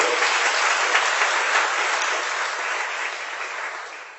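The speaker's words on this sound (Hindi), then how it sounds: "ये बीच बीच में तो आप लोग ताली बजाते हैं ना" Steady applause from an audience at a religious discourse, a dense wash of clapping that holds for a few seconds and tapers slightly toward the end.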